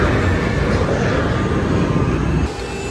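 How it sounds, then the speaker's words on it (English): A helicopter at an airshow at Weston Park flies nearby with a loud, steady engine-and-rotor roar that dips slightly toward the end, with no voices. "First helicopter of the weekend."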